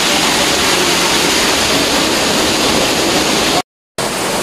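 Waterfall in Cateel, Philippines, a loud, steady broadband roar of falling water heard up close, unbroken except for a momentary dropout near the end.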